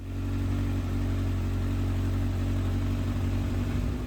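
A Kawasaki ZX7R motorcycle engine under restoration, with carburettor balancing and overheating problems, runs steadily to warm up, a loud, constant low rumble close by with no voices.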